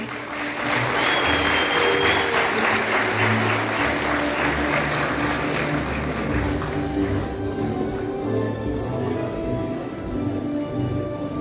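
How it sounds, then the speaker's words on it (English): A graduation crowd at Tbilisi State Medical University gives a warm round of applause for the newly appointed rector, sustained and full, slowly thinning toward the end. "please put your hands together to give a warm round of applause to our newly appointed Rector, Professor Irakli Natroshvili"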